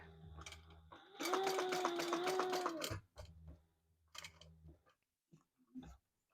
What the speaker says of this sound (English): we're going to top stitch around that window